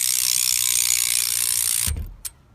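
A steady, dense rapid clicking of a bicycle rear cassette freewheel ratchet, close and fairly loud, stopping abruptly, followed by a couple of faint knocks.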